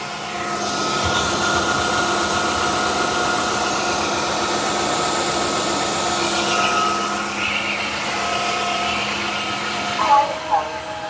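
A Dreame H15 Pro wet-dry vacuum runs in turbo mode with a loud, steady motor whine and airy suction roar that holds nearly constant throughout.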